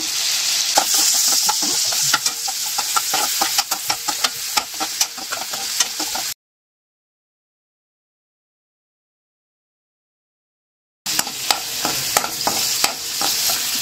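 Cinnamon, cloves, cardamom, stone flower and cashews fry in hot oil in a pan, a bright continuous sizzle with stirring scrapes. It runs for about six seconds, drops to silence, then resumes for the last few seconds.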